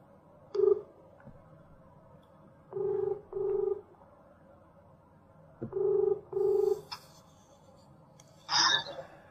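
A telephone dials out to return a missed call. Steady tonal beeps come in pairs, first a single tone, then two doubled sets, with faint voice-like sounds between them and a brief clatter at the end.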